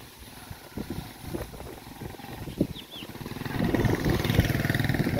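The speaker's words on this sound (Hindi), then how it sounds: "आगे से ये बाइक आ रही है" A motorbike approaches along a village road, its engine drone swelling from faint to fairly loud toward the end, with rural background noise around it.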